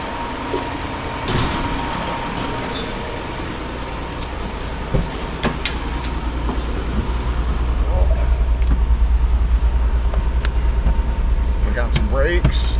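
A 1992 Toyota Land Cruiser 80 Series is driven outside, its low engine rumble rising steadily and growing louder toward the end, while people talk over it and occasional clicks and knocks break through.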